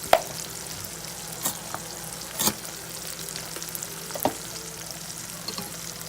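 Garlic and green onions fry fast over high heat in a hot pan: a steady, close sizzle with a few sharp spatters and scraping stirs of a utensil against the pan, with no voices.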